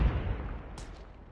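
Grenade explosion in Call of Duty Mobile, one loud low thud that rolls off over about a second, with a short crackling burst of debris partway through.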